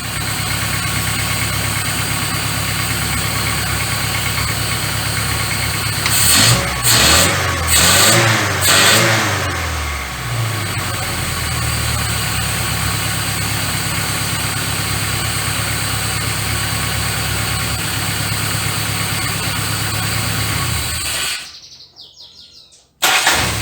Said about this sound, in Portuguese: vocês podem notar que a lenta dele ainda ficou melhor